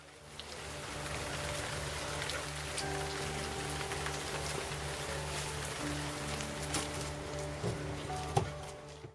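Steady rain pattering on a hard surface, a continuous soft hiss with scattered drops, broken by a low hum in the background.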